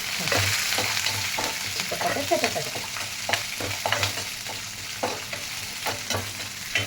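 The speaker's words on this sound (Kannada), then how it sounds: "ಹಸಿ ಮೆಣಸಿನಕಾಯಿ ಹಾಕಿ ಸ್ವಲ್ಪ ರೋಸ್ಟ್ ಹಾಕಬೇಕು." Green chillies roasting in a hot pan, a continuous sizzle punctuated by frequent scraping stirs of a spatula, near and fairly loud, with no speech.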